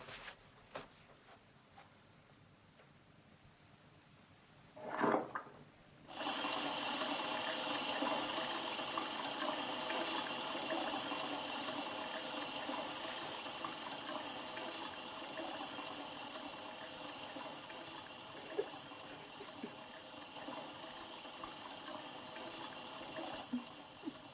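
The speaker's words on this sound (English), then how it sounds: "You take your clothes off and I'll run the tub." Water runs steadily into a bathtub, a constant gushing hiss from the tap that starts after a brief splash and continues unbroken for about twenty seconds, moderately loud in a quiet room.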